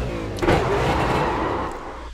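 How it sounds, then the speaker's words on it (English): A V8 Supercar engine in the iRacing video game, taken out of gear, gives a loud, continuous, throaty drone that briefly rises in a rev and then settles at an even pitch. "I've always loved these V8 supercars."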